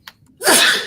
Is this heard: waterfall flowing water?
no